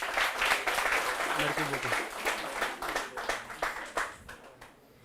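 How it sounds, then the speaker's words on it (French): An audience at a French comedy show claps steadily for the comedian Dogalao, dense applause fading gradually, with someone speaking over it. "Dogalao, on l'applaudit encore"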